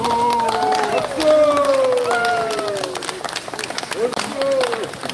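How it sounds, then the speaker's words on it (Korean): Crowd clapping at an outdoor cultural performance and closing dance at Semiwon in Yangpyeong, a busy patter of hands mixed with a voice that sings or calls out over it. "박수!"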